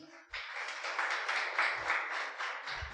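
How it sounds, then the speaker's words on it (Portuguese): A church congregation applauds together after a call to praise Jesus, steady sustained clapping close by for a few seconds, with a faint low voice at moments underneath. "Você pode aplaudir o Senhor Jesus?"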